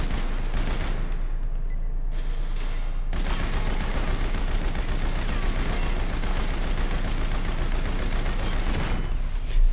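A light machine gun fires in Grand Theft Auto V at a shooting range: loud, dense automatic bursts with a short pause early on, then a long continuous stream of rapid shots, no talking.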